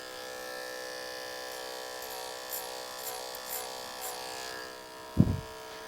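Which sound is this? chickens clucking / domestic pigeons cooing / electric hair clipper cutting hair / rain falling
electric hair clipper cutting hair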